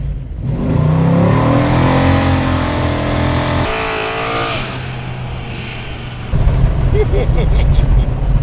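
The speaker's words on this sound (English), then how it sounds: "It does good burnouts." A 1968 Ford Ranchero does a burnout on a remote paved road, its engine roaring loud and close with rising revs and tire squeal, then surging harder near the end while people talk over it.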